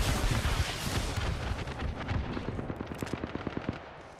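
Gunfire in an online squad shooter video game: dense bursts of shots at first, then a rapid run of separate automatic reports that grows sparser toward the end, loud and close, with no talking.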